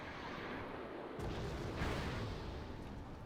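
A Susongpo artillery piece fires in the modern strategy game Wargame: AirLand Battle. A sudden burst of noise breaks in, and a deep boom swells soon after, heard from a distance.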